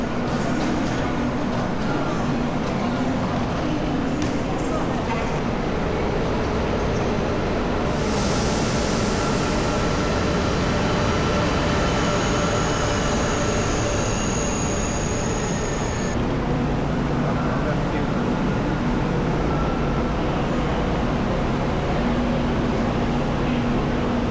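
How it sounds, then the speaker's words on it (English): Continuous rumbling ride aboard a high-speed train to Gyeongju, South Korea, a steady broadband roar with faint high whine, constant in level for the whole stretch. "we boarded the train and began our journey to Gyeongju"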